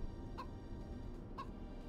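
Two short clucks from a chicken in the game DayZ, spaced about a second apart over a quiet, steady background hum.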